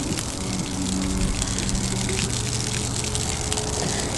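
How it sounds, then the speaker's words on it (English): Warm water gushes continuously and loudly from the cooling outlet of a running boat engine under repair, a dense, unbroken splashing rush with no pauses. "I can feel the warm water coming out from the engine."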